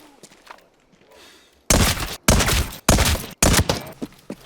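Four sharp, muffled suppressed gunshots in a video game shooter, in quick succession after a quiet stretch, each a dense burst with a short tail, close and loud.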